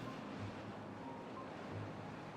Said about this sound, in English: here comes the water flowing down here nicely now